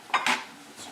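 Plates and dishes clink and clatter in two quick bursts, close and fairly loud, followed by a faint third knock, with no talking.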